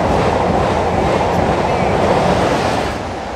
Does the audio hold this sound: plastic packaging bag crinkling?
no